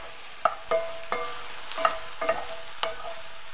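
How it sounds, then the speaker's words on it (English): Dried wild mushrooms being stirred in a hot pan, with a series of scraping stir strokes and light sizzling, close and moderately loud, with no one speaking. "of sauteing here, the mushrooms are starting to get pretty juicy"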